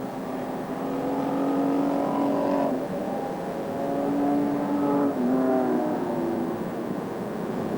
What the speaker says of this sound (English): Going past the start finish line now with the 47 car in 2nd spot.